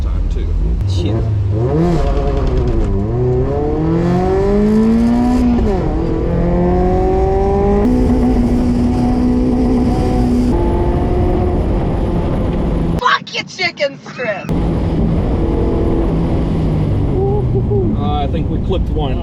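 A car at Talladega launches hard, its engine revving up through several gear changes with rising and falling pitch, heard from inside the cabin while people talk over it, with one brief abrupt cut partway through.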